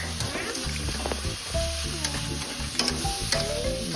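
A spatula scrapes and stirs pancit canton noodles and ingredients in a frying pan over a steady sizzle, with quick clatters and scrapes coming in short bursts, and no voices.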